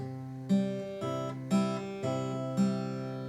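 Electric or acoustic guitar playing the riff and pickup leading into the chorus of a song, with four strummed chords ringing out in steady succession, clear and alone with no talking.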